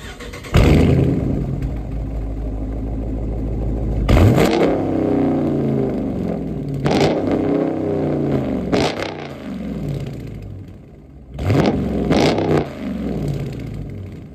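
A Dodge Charger R/T with a 5.7-litre naturally aspirated V8 idles with a deep, loud rumble, then is revved hard several times in sharp bursts that fall back to idle between them.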